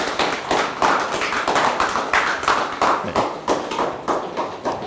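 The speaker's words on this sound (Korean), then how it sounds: "여러분 다시 한번 박수로 뜨겁게 맞이해 주십시오." Audience applause at a cultural education institute's general assembly after a special lecture, a dense steady clatter of many hands clapping throughout, fairly loud and close, with a brief word spoken over it.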